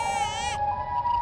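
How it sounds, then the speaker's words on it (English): A loud, wailing baby cry in the Roblox game Brookhaven, a synthetic, high-pitched sobbing wail that holds steady and close throughout. "Oh, he is crying really loud."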